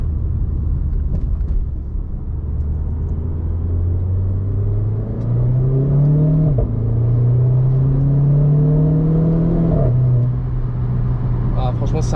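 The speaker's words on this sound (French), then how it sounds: "Puis quand on rétrograde, ça pétarade légèrement." A Renault Clio 4 RS Trophy engine is heard loud and close throughout, revving up and easing off across rising and falling pitch sweeps, with faint crackles from the exhaust.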